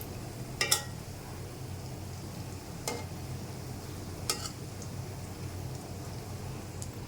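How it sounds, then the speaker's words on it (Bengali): Banana flower (mocha) pieces frying in a pan, a soft continuous sizzle close by with a few sharp utensil clicks and scrapes against the pan, quiet and steady with no talking. "এই যে আমি অনেকগুলো ভেজেছি, এখানে আমি ভাজিতেছি।"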